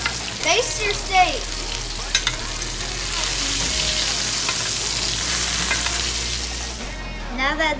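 A ribeye steak frying with garlic in foaming butter, crackling steadily and close as it is basted. The sizzle is strong and continuous, with brief scraping of the spoon and pan.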